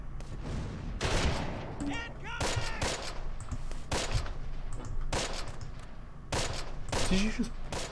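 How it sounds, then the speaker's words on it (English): Rapid volleys of rifle and machine-gun fire from a Close Combat war game, with dense overlapping bursts cutting down soldiers, loud and close, repeating in several waves over a steady battlefield rumble. "Did you just mow down a couple of guys who surrendered?"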